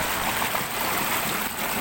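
Water gushing forcefully from a 5 HP motor pump into a farm tank, a steady, dense rushing splash that stays loud and even throughout.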